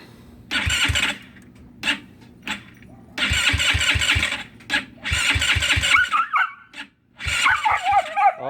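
A GY6 scooter engine with a freshly adjusted carburetor cranks in bursts of loud, rapid firing pulses, stalls briefly, then catches and runs unevenly, revving and sputtering up close.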